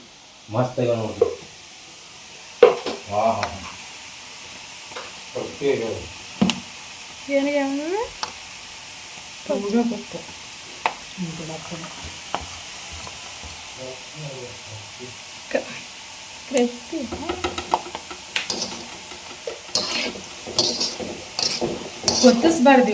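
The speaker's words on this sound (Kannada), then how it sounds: "ಮಧ್ಯಮ ಉರಿಯೊಳಗೆ ನಾವು ಫ್ರೈ ಮಾಡ್ಕೋಬೇಕು" Food fries on medium flame in a pan, with a faint steady hiss under scattered clinks and scrapes of a utensil stirring and tapping, while someone talks throughout.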